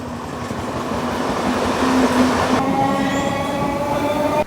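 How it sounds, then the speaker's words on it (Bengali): Puri–Sealdah Duronto Express rolling through Bidhannagar Road station: a loud, continuous rumble of wheels and carriages with a faint steady whine, passing close by throughout. "Train Bidhannagar road station cross করছে।"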